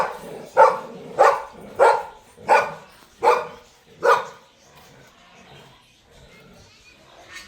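A household dog barks six times in a steady, evenly spaced run, loud and close, then falls quiet with faint low sounds trailing after.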